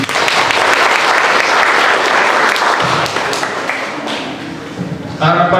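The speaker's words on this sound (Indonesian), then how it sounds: "Tepuk tangan" Audience applause at a university student event, loud sustained clapping filling the room for several seconds, with a voice starting to speak near the end.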